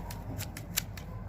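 Hand shears trim a boxwood topiary ball, giving a quick series of about five crisp snips in an even rhythm, close and fairly quiet over a low background hum.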